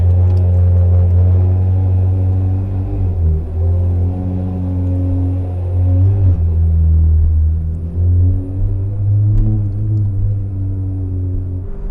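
A Ferrari 360 engine while driving, a loud, deep droning rumble heard from inside the car, rising and falling steadily with throttle changes and brief dips as gears shift, with no talking.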